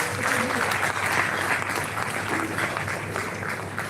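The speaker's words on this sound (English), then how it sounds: "Please join me in congratulating our long-listed poets with a warm round of applause." An audience at a poetry award announcement breaks into a warm, sustained round of applause, a dense continuous patter with faint crowd murmur underneath.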